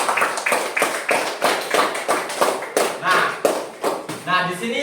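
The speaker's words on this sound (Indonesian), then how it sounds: "tepuk tangan dulu" Classroom of young schoolchildren giving a round of hand claps for a classmate, a quick rhythmic burst of roughly a dozen sharp claps close by, with a few voices chattering faintly underneath.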